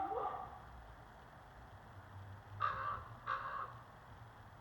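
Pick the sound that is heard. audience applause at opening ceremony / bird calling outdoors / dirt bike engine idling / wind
bird calling outdoors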